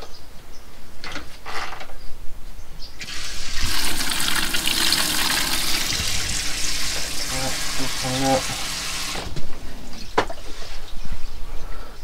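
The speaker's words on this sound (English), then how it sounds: "let's try the shower" Water from a campervan shower gushes in a steady loud hiss for several seconds, with clattering and handling noises around it that fade as the flow stops.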